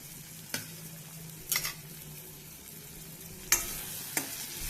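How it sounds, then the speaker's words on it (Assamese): Soybean chunks fry in a pan with potato and tomato, giving a soft, steady sizzle broken by a few sharp scrapes and clinks from stirring. "চয়াবিনখিনিও এড কৰি মই অলপমান সময় ধুনীয়াকৈ ভাজিছোঁ"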